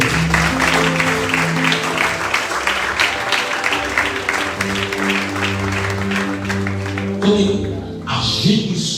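A church congregation applauds during an evangelical sermon, dense clapping blended with sustained keyboard chords, continuing for several seconds before a louder swell at the end.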